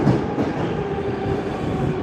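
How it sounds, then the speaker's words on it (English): A Moscow metro train pulls away from the platform at night: a loud, continuous rumble of wheels on rail with a steady high tonal whine from the motors. No talking is heard. "The train just pulled off really"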